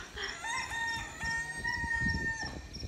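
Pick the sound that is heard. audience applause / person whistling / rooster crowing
rooster crowing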